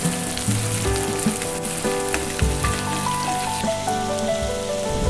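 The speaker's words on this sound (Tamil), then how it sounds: "அப்புறம் கருவேப்பிலை, வெங்காயம், பச்சை மிளகாய் சேர்த்து நல்லா பொன்னிறமாக வர வரைக்கும் வதக்கணும்." Onion, curry leaves and green chillies sautéing in hot oil for egg noodles, a loud, steady close-up sizzle with a patter like rain and occasional stirring scrapes, no talking.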